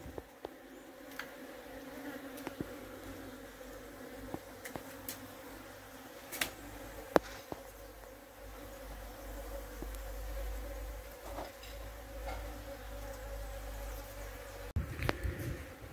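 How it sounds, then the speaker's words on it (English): Honey bees buzz steadily in an outdoor bee yard, a continuous droning swarm hum with scattered louder passes of individual bees flying close by, no talking. "This is one way in which I stimulate the bees to get them going and looking all around for any kind of nectar source"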